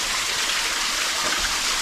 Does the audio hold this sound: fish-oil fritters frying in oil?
no